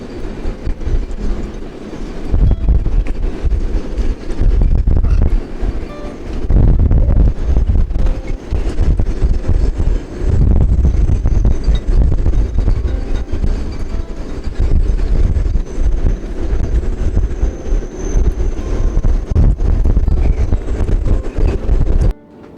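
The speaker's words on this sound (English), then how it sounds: "watched the raging storm come in" A raging storm wind blows hard and steadily, with loud, continuous gusting roar and buffeting rumble that hardly lets up for over twenty seconds.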